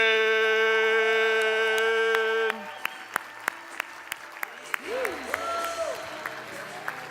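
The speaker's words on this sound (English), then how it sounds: "round of applause for Mary Catherine Johnson." Audience at an Austin event gives a round of applause, sharp scattered claps following a sustained tone, thinning out to a few individual claps after the first seconds.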